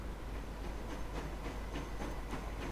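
A train pulling into a station platform in Transport Fever, a steady low rolling rumble with faint rhythmic clacks and hiss, moderately loud and continuous with no voices.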